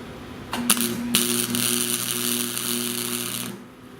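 A MIG welder lays a short tack weld on custom steel rock sliders, a steady buzzing crackle about three seconds long with a sharp start, close and loud, fading out at the end.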